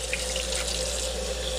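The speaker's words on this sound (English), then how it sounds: "I just rinse them off with hot water" Hot tap water runs steadily into a sink as eggshells are rinsed, a constant close splashing hiss with no pauses and no talking.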